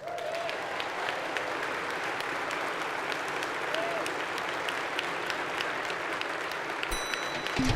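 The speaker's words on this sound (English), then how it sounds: "Please join me in a round of applause for all who give to make this vision a reality." Steady applause from an audience at an Internet Archive annual celebration, a dense continuous patter of many hands clapping at moderate volume throughout, with a voice briefly audible near the start.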